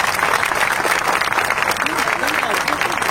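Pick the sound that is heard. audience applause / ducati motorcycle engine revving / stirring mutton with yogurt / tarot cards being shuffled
audience applause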